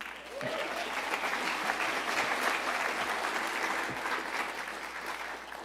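Dense, sustained audience applause at an evening panel event, a continuous wash of many hands clapping at even loudness throughout, with a few low thumps.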